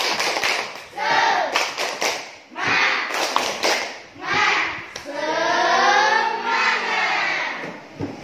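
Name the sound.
children doing a 'tepuk semangat' clapping chant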